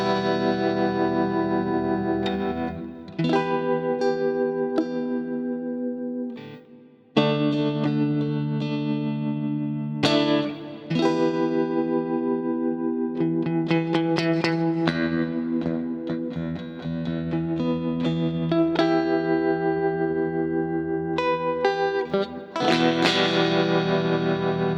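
Electric guitar through a Chase Bliss CLEAN pedal set to stereo double tremolo, chords pulsing and shimmering with effect-laden sustain, played alone at moderate level with brief gaps between phrases.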